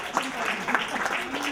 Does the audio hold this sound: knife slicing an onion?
no